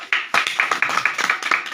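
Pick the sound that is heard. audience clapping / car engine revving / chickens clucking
audience clapping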